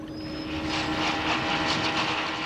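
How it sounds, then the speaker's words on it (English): Speedboats and jet skis run on a lake in July, a continuous droning motor whine with a rising and falling roar that is moderately loud and steady, with no voices. "By July, the once quiet waters are shattered by speedboats, water skiers, and jet skis."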